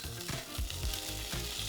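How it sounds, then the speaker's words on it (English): Garlic and marinated salmon being stir-fried in a pan give a steady, close sizzle, with soft scraping and stirring strokes breaking in every few tenths of a second. "Ooh, it's sizzling!"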